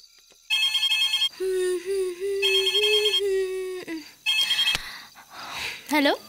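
A telephone rings in an indoor scene from a Bengali feature film, sounding in repeated bursts with voices speaking in between.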